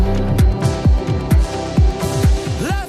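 Bright synth lead from a progressive house track plays a dense melodic line over sustained chords and a steady pumping kick, ending in a swooping pitch bend, loud and without talk.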